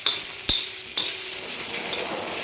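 An onion roasts in a pan with a little oil, giving a steady hissing sizzle broken by a couple of sharp scraping knocks as it is stirred and turned.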